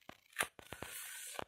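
Paper being cut with scissors during a craft box-making session: a handful of sharp snips and crisp tearing-like cuts in quick, uneven succession, close and fairly quiet, with no voices.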